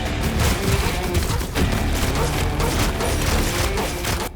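Dense, continuous volleys of gunfire fill a Kingdom-like base-building video game with guns, rattling steadily at full loudness with no gaps for the whole stretch.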